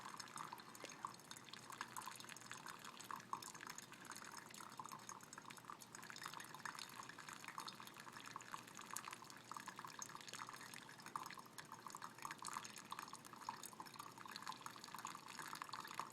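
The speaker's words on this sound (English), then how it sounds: "It's kind of hard to actually like keep pouring really slow without being shaky." Water poured slowly and steadily into a Chemex coffee brewer, a faint continuous trickle and splash running unbroken throughout with no talking.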